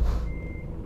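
Reversing beeps of a truck in Euro Truck Simulator 2, a steady electronic tone sounding through the low rumble of the truck's engine while it backs into a parking spot.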